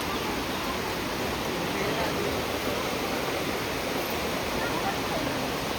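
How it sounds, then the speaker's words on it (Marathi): A river flows near a Shiva temple as a steady, broad rushing of water, loud and continuous throughout with no break, no voices standing out above it. "ती आमची शिव मंदिरची नदी."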